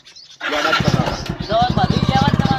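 A motorcycle engine kicks into life and settles into a rapid, throbbing idle close by, with people talking over it.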